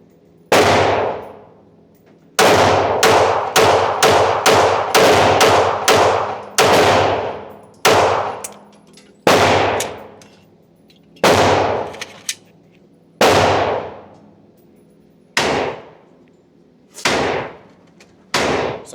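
A Bren 2 rifle fitted with a Griffin Armament Paladin suppressor firing at steel targets, with loud suppressed shots, some in quick strings and others spaced apart, each followed by a ringing clang from the steel.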